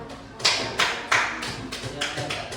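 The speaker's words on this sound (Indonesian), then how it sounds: "Tepuk tangan untuk orang." Children in an Indonesian classroom clap together in a rhythmic pattern, sharp group bursts repeating about every half second over a light hum of voices.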